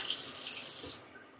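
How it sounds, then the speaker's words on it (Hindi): A tap runs briefly into a sink as water wets a face, a soft steady hiss of flowing water that fades toward the end. "तो इससे पहले मैं अपने फेस को थोड़ा सा पानी से गीला कर लेती हूँ"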